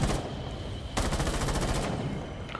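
Rapid automatic gunfire from an operator's weapon in Rainbow Six Siege rattles in two bursts, the second a dense, steady volley of about a second, loud and close, with no talking.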